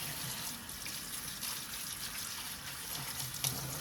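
Water runs in a sink while something is washed for seasoning, a steady close trickle and splash throughout with no voices.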